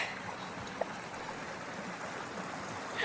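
A small shallow stream in New Zealand's Waitakere bush near Kitekite Falls, flowing steadily over rocks at an easy crossing, a continuous soft wash with a brief splash partway and a louder surge at the end.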